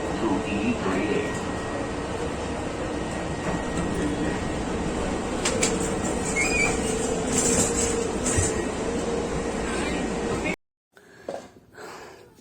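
Airport metro train carrying passengers to the terminals, a steady loud rolling rumble with hum that stops abruptly near the end, followed by brief quiet sounds.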